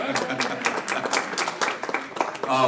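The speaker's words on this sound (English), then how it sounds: "Hey, round of applause." Applause at a League of Women Voters school board candidate event in Michigan City, a crowd clapping steadily for nearly three seconds with voices mixed in.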